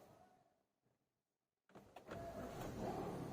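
An AMT car whose gears won't engage because of a faulty sensor is started, breaking a stretch of near silence with a sudden starter crank that settles into a loud, steady engine idle, heard up close.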